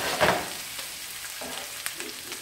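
Onions and potatoes fry in a pan with a steady soft sizzle, joined by a few light stirring scrapes and clinks near the start and toward the end, with no voices.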